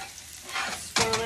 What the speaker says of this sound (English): I'll add a little bit more ghee right in the middle of my pan.